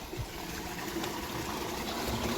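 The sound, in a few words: borewell motor pumping water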